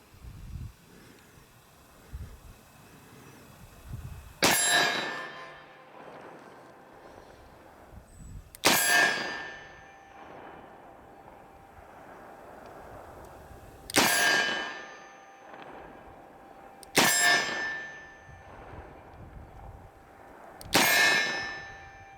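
Five single-action shots from a Smith & Wesson 686 Plus 3-inch .357 Magnum revolver at steel transition targets, evenly spaced a few seconds apart, each a sharp crack with a bright metallic ring, with quiet outdoor pauses between.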